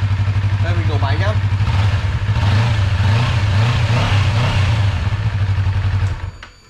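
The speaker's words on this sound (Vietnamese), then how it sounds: "Đây mình nổ máy nhá." A Honda CBR250RR 250cc sport motorcycle engine starts and then idles and revs loudly and steadily up close for several seconds, with a deep continuous drone that cuts off near the end.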